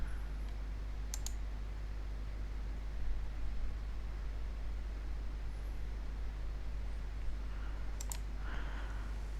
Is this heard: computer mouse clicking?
yes